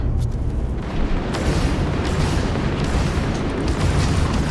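Sustained heavy booming rumble of a missile striking an enemy starship in the space game Starfield, a loud continuous explosive roar with dense low-end and bursts of crackle throughout.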